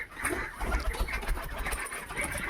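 Domestic crested pigeons at a home loft, with soft bird calls and fluttering in a busy, noisy mix; no speech.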